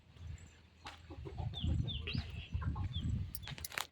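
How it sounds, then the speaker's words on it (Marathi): Village chickens cluck and murmur close by in a lively flock, with short chirpy calls over a low, busy clucking under warm outdoor ambience. "काय ग कोंबड्यांनो, कोंबड्यांची मजा आहे."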